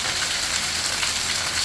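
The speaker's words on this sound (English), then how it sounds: "It's very rainy this morning. Very, very rainy." Heavy morning rain falls outside in Grandin, St. George as a dense, steady hiss of drops on surfaces, loud and unbroken, with no talking.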